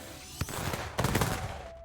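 Firework from the firework seal in Temtem, a video game: sharp crackling bursts in two clusters, the second louder and denser, fading into a thin ringing tone, no voices.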